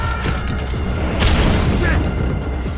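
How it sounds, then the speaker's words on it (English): A stun grenade hits the player in a video game, a muffled boom followed by a dull ringing wash over busy game noise, with a voice talking over it. "And we're hit by a stun grenade."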